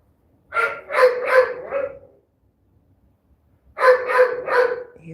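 A puppy gives two quick bursts of barking, three or four sharp yaps in each, close and fairly loud, with a short silent gap between the bursts.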